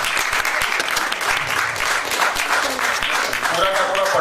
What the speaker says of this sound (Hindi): तो जोरदार तालियां साक्षी।